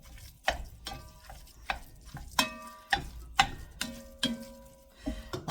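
Ground meat for chili is mashed in a pan with a meat masher, making a regular series of sharp taps and scrapes against the pan over a soft sizzle, about two strikes per second, close and clear without talk.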